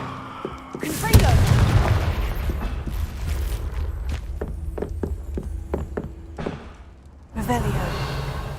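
A Confringo fire spell bursts in Hogwarts Legacy, a heavy booming blast with a rumbling tail, followed by a string of sharp clicks and thuds, then another burst of noise; a voice speaks briefly.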